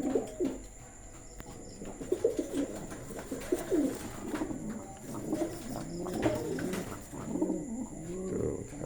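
Pigeons cooing at close range, repeated soft throaty coos in a loose rhythm that rise and fall over several seconds, with a few faint chirps mixed in and no talking.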